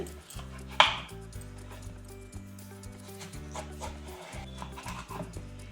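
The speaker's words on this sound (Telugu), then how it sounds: "ఇలా కర్బూజాని కట్ చేసుకోవాలి. ఇలా రౌండ్గా కట్ చేసుకోవాలి." A knife slicing a muskmelon into rounds on a cutting board, with one sharp cut near the start followed by light tapping knife contacts, all under steady background music.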